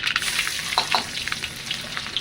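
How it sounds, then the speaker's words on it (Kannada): Mustard seeds and crushed garlic frying in hot oil for a fish curry tempering, a steady close sizzle with sharp crackling pops bursting through, no voices. "ಎಣ್ಣೆ ಕಾಯ್ದಿರುವಂಥ ಎಣ್ಣೆಗೆ ಸ್ವಲ್ಪ ಸಾಸಿವೆ, ಕುಟ್ಟಿಟ್ಟಿರುವಂಥ ಬೆಳ್ಳುಳ್ಳಿ"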